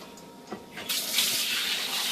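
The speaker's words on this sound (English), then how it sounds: "Washing my hands." Tap water runs into a kitchen sink as hands are washed, starting with light splashes and then a steady close stream rushing for the rest of the clip, with no voices.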